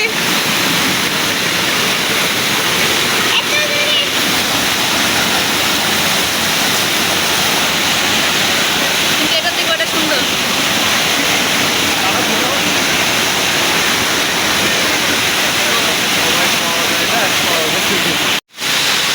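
A steady, dense rush of falling water from the Himchari waterfall roars without pause, broad and hissing, with a brief cut-out near the end.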